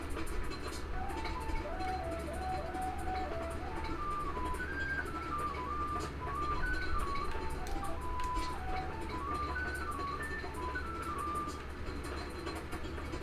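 A train in the video game Dark Cloud 2 rumbles low and steady under a soft, looping melody with light ticking, heard at a moderate level without any speech.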